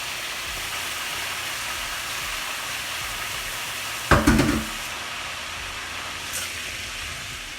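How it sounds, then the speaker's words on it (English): Chicken wing goulash steams and sizzles steadily in a pot, a constant broad hiss with one brief louder burst of crackling and clatter midway, and no talking. "Let it steam."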